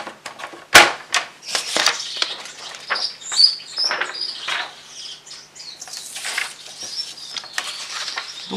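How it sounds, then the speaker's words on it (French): Gouldian finches kept indoors chirp and tweet in short, high bursts, with one sharp loud call early on and softer scattered calls throughout, fairly close in a quiet room. "j'ai rentré mes petits diamants de Gould. Donc ça chante un petit peu."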